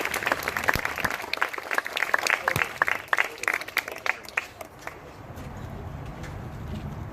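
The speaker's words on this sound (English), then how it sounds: "Everybody, give a round of applause for Ernie." A crowd at a cryptozoology talk at the Santa Ana Zoo applauds, sharp individual claps spiking through a dense clapping wash that thins and tapers off toward the end.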